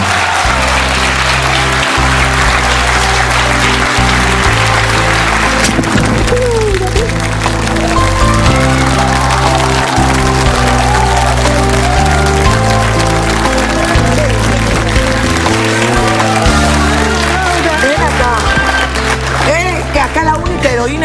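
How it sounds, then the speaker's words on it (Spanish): A television talk-show studio audience claps loudly and continuously under a steady bed of music, with a voice calling out over it in places. "Y yo quiero recibir con un fuerte aplauso a Luz María."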